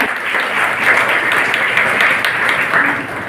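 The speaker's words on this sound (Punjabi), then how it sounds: "ਪਲੀਜ਼ ਇੱਕ ਤਾਲੀਆਂ ਸਰ ਤੇ" Audience applause at a skill development event in Amritsar where student kits were handed out, a steady, dense wash of many hands clapping close by for several seconds without a break.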